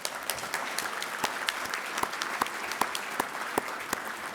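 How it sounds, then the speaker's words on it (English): An audience at an opening reception in San Antonio claps in a dense, steady burst of applause with sharp individual claps, moderately close and unaccompanied by speech. "let's give you a big round of applause."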